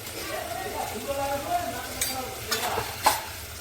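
Pav bhaji masala cooking in a pan makes a low sizzle with repeated spoon scrapes and stirring clinks that grow louder toward the end. Quiet talking runs underneath.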